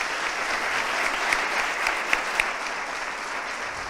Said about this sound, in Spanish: un fuerte aplauso también para la ponente